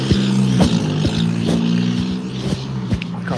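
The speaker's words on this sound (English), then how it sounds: "My car sounds like a fart." A car engine idles with a low, buzzy, flatulent drone and repeated sputtering pops at a regular rhythm, loud and close throughout.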